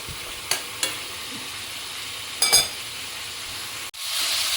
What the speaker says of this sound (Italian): mettiamo giù i pezzi di prima e facciamo finire di rosolare tutti insieme per bene